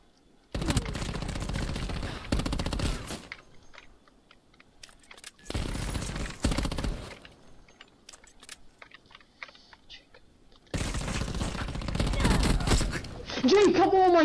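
Automatic gunfire rattles in a friendly 1v1 video game match, in three loud rapid bursts separated by quieter gaps, with a brief vocal sound near the end.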